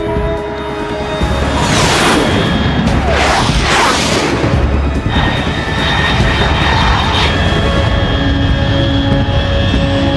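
A fast jet aircraft in Metal Gear Solid 3 roars past overhead at high altitude, a loud sweeping engine rush with two swelling passes, sustained over a steady rumble and a high whine, no talking.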